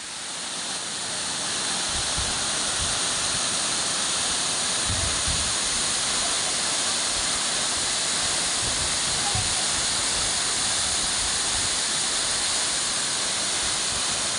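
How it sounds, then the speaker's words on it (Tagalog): Lat-ason Falls in Calatrava, Negros Occidental, a tall waterfall, roars as a steady, loud broadband rush of falling water, constant and close for the whole stretch with faint low thumps underneath. "Ang taas ng falls dito mga kaidol."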